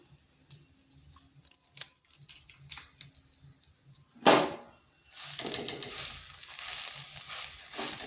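A spoon stirs spices, turmeric and salt into semolina in a pan with a little oil, giving soft scraping strokes over a faint sizzle, then a sharp clatter and a louder, steadier frying hiss.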